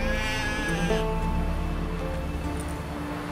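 A sheep bleats in the open-world fantasy game The Witcher 3: Wild Hunt, a single wavering call in the first second over a faint background hiss.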